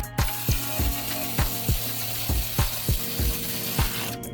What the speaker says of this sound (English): And then we're gonna tighten it to spec.